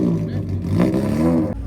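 A tuned BMW car engine at a drag race event runs with a steady, loud low rumble that swells slightly mid-way, with voices talking over it.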